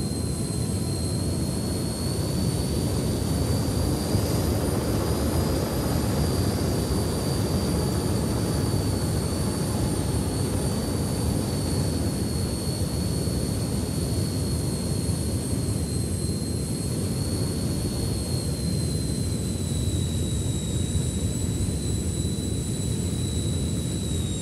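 A jet aircraft in the game Just Cause 4 drones loudly and steadily with a high engine whine throughout, ending in a rough landing, with no voices.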